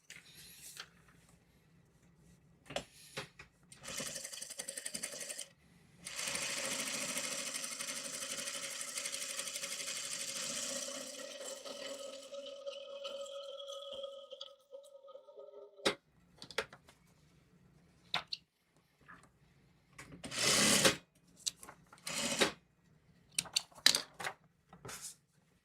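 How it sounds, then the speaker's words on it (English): A sewing machine stitches straight along a marked line on a diamond pendant quilt, running steadily for about ten seconds at moderate, fairly faint volume, framed by scattered clicks and handling noises. "we'll sew right on the line."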